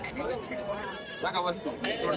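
Goats bleat repeatedly over a person talking nearby at a goat market in Chalisgaon, India, several wavering cries rising above the speech at close range.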